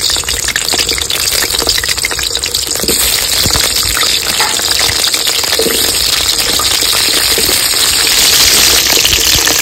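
Cut potato pieces fry in hot mustard oil in a wok, giving a loud, steady, dense hiss of bubbling oil that holds without pause throughout.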